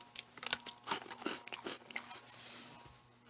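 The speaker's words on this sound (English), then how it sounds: "Listen to that crunch." Crisp crunching of someone biting into a crunchy wafer cookie, several sharp bites and chewing crunches close up, fairly quiet, with no talking.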